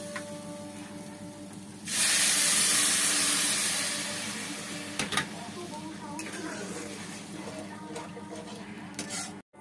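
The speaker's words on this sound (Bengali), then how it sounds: "চালটা ভাজা ভাজা হয়ে গেছে, এবার জলটা ঢেলে দেবো।" Water poured into a hot pot of fried rice for pulao bursts into a loud, sudden hiss that slowly fades over a couple of seconds, followed by faint clinks of the pot.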